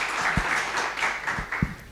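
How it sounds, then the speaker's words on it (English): An audience at a gig economy panel session applauds steadily for about two seconds, with dense clapping and no talk over it. "Round of applause."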